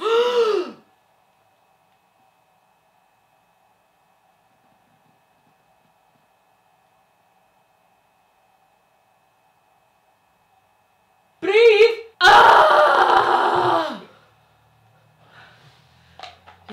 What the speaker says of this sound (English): When I say action, big breath.